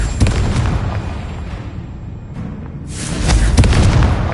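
A heavy fire-blast explosion from a spell in Hogwarts Legacy, set against rumbling combat noise, with a second loud burst swelling near the end.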